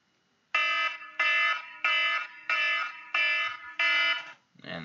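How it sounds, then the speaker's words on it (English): A timer alarm goes off with six loud, evenly spaced electronic beeps, each about half a second long, close and clear in an otherwise quiet room before a rustle at the end. "the timer's going off"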